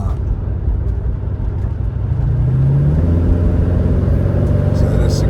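An unrestored, all-original 1973 Chevrolet Monte Carlo drives along, its engine rumbling steadily up close and rising in pitch partway through as it picks up speed, with someone talking over the sound.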